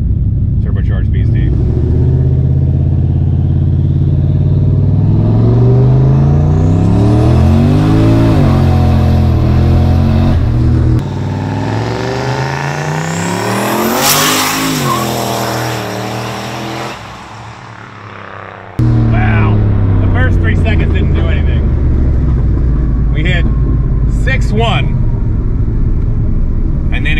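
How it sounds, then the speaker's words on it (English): Turbocharged V8 Lincoln on a 0 to 60 street run, loud deep engine climbing in pitch through several gears with a brief lift before pulling again, heard from inside the car with someone talking over it. "We're gonna see what kind of 0 to 60 we can run in this big turbocharged beast."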